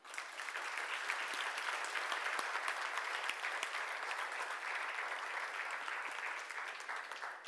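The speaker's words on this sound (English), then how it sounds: "why don't we applaud them?" Steady applause from an audience thanking contributors at a vision presentation, a dense even patter of many hands lasting throughout at moderate, slightly distant volume.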